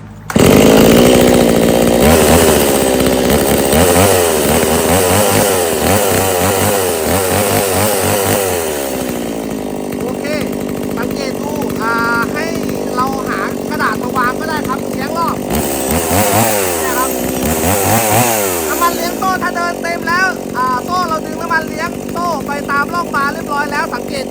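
A Stihl MS 180 chainsaw engine starts and runs loudly, its revs eased up and down in a steady buzzing drone. Someone talks over the engine throughout.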